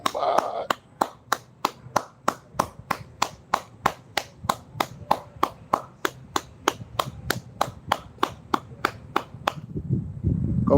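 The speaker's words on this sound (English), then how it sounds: "Can we get a round of applause for Isat Buchannan?" Clapping rings out in a steady, even rhythm of sharp single beats, roughly three per second and all of similar loudness, for about ten seconds before stopping, with faint background voices toward the end.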